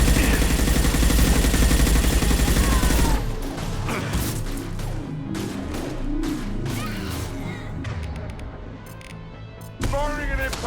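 An impact shot fires in Mass Effect 2 amid dense game combat: a steady, loud wash of noise for the first three seconds, then a cluster of sharp cracks, bangs and mechanical clatter, with a bright burst near the end.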